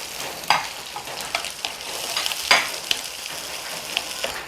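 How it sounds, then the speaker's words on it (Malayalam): Chopped shallots and mustard seeds frying in a pan for a pumpkin thoran, a steady close sizzle broken by scattered pops and a few stirring scrapes, with no talk. "ചെറിയുള്ളിയൊക്കെ ഒന്ന് മൂത്ത് വരട്ടെ"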